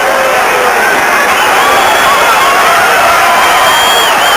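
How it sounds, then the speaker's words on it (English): A boxing arena crowd at the Thomas Hearns v James Kinchen fight roars on its feet after the bell, a loud, dense, unbroken wall of cheering and shouting that holds steady throughout. "Crowd on their feet here."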